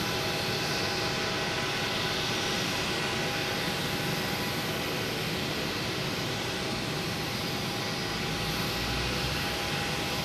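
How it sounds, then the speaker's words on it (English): American Airlines Boeing 737 MAX 8 jet airliner bound for Chicago at Boston Logan Airport, heard as a steady, broadband engine roar with a faint whine that holds fairly constant for the whole stretch, with no talking. "We have American Airlines here heading to Chicago."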